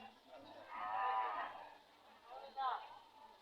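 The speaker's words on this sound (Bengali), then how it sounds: "এই গরুগুলো" Cows at a cattle market, two close, loud moos, one long drawn-out low call followed by a shorter one, over a quiet background without clear talk.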